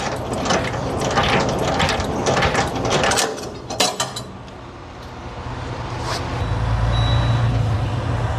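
Semi-trailer landing gear is cranked by hand, giving a continuous grinding, ratcheting mechanical churn with irregular clanks over a low engine idle, close and moderately loud.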